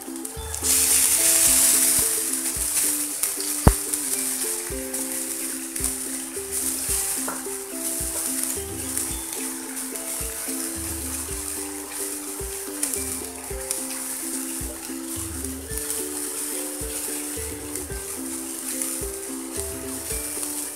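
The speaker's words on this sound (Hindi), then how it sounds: "अब हम इसमें लहसुन अदरक का पेस्ट डाल देंगे" Garlic-ginger paste sizzles in a pan with browned onions while cooking palak chicken, a steady frying hiss with light stirring beneath soft tonal background music.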